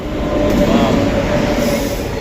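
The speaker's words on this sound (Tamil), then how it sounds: "சரியான ஸ்பீடு ரயில் போகிறது பாருங்கள்" A train rushes past at high speed close by, a loud sustained roar of wheels and rail with a brief squeal, wind rushing throughout.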